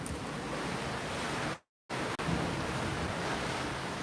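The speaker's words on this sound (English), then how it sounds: "You can hear the ocean in the background." Ocean surf at night on a Greek shore, a steady broadband wash of waves with no voices, briefly cut out by a gap of silence partway through before resuming.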